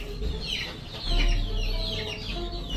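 Black Tiger hens cluck and chatter continuously at close range among newly hatched chicks, a busy layered mix of soft clucks and high chirping peeps.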